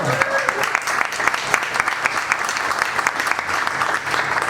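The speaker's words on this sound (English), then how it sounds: "Give it up for John." Audience at a book launch on gay Adelaide history clapping steadily, a dense wash of applause of even loudness from start to finish with no talk over it.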